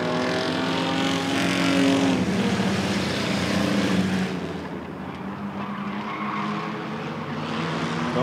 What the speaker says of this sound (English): Steve Miller, ready to lead the band down to green here